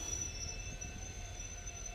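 Steady low rumble of a moving train between Silchar and Guwahati heard from inside a carriage, with a faint whine running through it and no talking.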